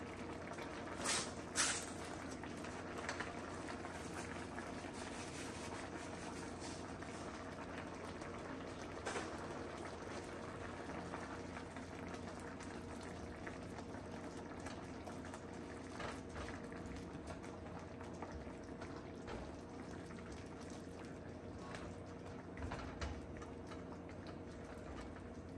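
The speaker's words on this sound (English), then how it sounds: "Then you're just gonna let that sit for a little bit, let it bubble up, get all nice and coated in there," Fajita pasta sauce with fajita seasoning simmers in a pan, giving a faint, steady bubbling and soft popping that runs on at low volume throughout with no talk.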